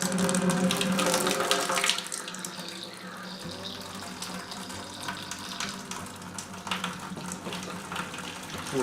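Hot liquid from a grain mash pours and splashes into a fermenter while making moonshine, a steady gushing stream close by that eases into a softer trickle and splatter.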